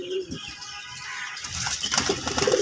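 Pigeons at a pigeon farm, soft cooing mixed with bursts of wing flapping and rustling, close by, irregular and moderately quiet, with no clear speech.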